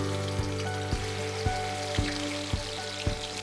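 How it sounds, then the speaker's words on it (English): Okra pieces deep fry in sunflower oil, sizzling and crackling steadily, with a faint regular thump repeating about every half second beneath the frying noise. "right now I'm deep frying"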